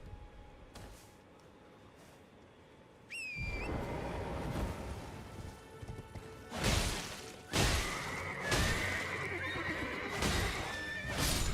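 A horse in the video game Elden Ring whinnies loudly several times amid thuds, clip-clopping hooves and combat sounds, with a shrill high neigh standing out near the start.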